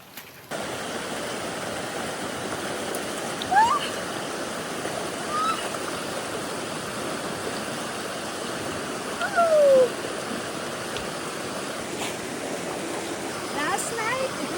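A swollen mountain rainforest stream after a night of heavy thunderstorm rain rushes in a loud, constant roar nearby, with a few faint chirps and brief thuds over it.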